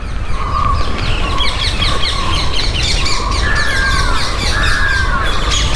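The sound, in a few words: birds chirping and crows cawing in a Bengaluru park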